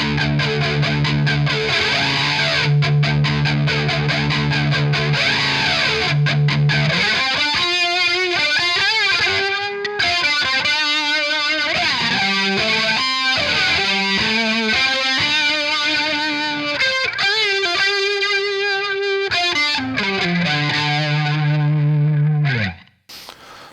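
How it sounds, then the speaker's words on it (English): Electric guitar played through a Marshall amp with an MD500 pedal adding modulation over distortion, heard alone for over twenty seconds of sustained chords and melodic runs with a swirling, chorus-like shimmer before cutting off abruptly. "basically it just allows me to have that modulation along with that distortion"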